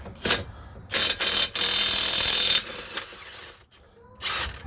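Milwaukee 2860-20 cordless impact wrench breaking loose and spinning out a mounting bracket bolt, with several loud close bursts of hammering whir separated by short pauses.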